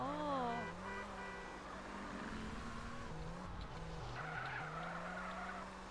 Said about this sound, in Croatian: vidite drift, ste vidjeli?